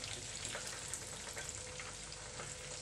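Chicken pieces shallow-frying in oil on their second turn, a steady close sizzle dotted with small crackles and spatters, no one speaking.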